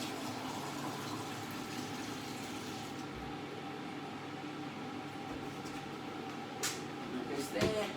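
Tap water runs into a pan in a kitchen sink, a steady low rush under faint room noise, with a brief clatter near the end.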